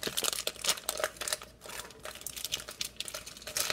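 A package of elephant ears dessert mix crinkles loudly and continuously up close, its plastic crackling and rustling in rapid bursts with brief lulls.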